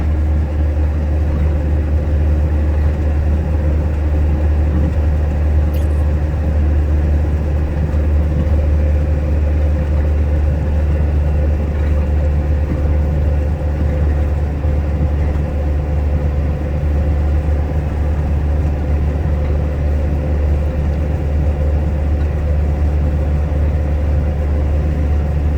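Motorbike engine humming steadily at cruising speed, with constant low rumble and wind noise throughout, close and loud, no talk.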